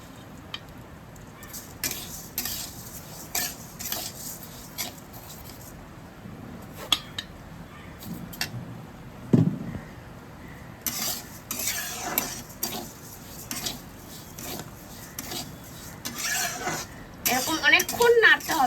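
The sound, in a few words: stirring rice roasting in a wok for laddu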